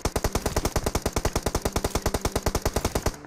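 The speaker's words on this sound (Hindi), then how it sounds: "और इतनी देर में जो बहुत तगड़ी वाली फायरिंग होती है" Heavy automatic gunfire in the mobile battle-royale game PUBG Mobile: a rapid, steady burst of about two dozen loud, evenly spaced shots over roughly three seconds, then an abrupt stop.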